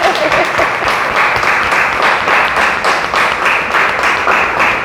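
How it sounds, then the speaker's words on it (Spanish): An audience applauds two speakers at the close of a commemorative discussion event, a dense, steady wash of many hands clapping, loud and continuous throughout with no speech over it. "Yo les pediría, si podemos, un aplauso para Ana María y para Claudia."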